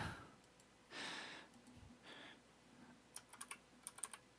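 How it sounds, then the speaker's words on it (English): Typing on a computer keyboard comes through as faint scattered key clicks, soft at first and then a quick cluster of sharper taps near the end, with some muffled rustling. "My typing is weird."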